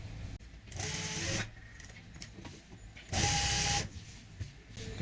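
A sewing machine stitches fabric in two short whirring bursts separated by quieter pauses with light handling, close and fairly soft.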